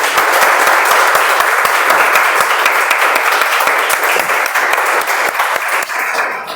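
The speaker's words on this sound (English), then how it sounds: "let's give a better round of applause to this." A large crowd applauds loudly at a Toastmasters meeting, with dense, steady clapping throughout that thins slightly toward the end. No voices stand out.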